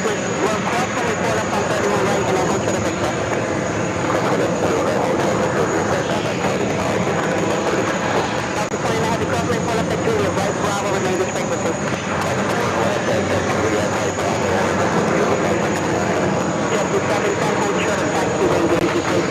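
Jet airliners taxi and take off at JFK airport, a steady broadband roar of engines that holds at the same level throughout with no break.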